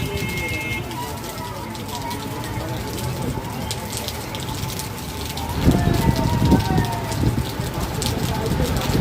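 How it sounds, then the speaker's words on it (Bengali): Heavy rain pouring down outdoors, a dense continuous patter and hiss that swells louder about halfway through, with faint voices and tonal background sounds underneath. "সে এত বৃষ্টি হচ্ছে, অনেকক্ষণতে বৃষ্টি হচ্ছে"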